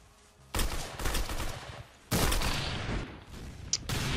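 Loud bursts of video game gunfire crackle in two long volleys, with a short sharp shot near the end, all without any voices.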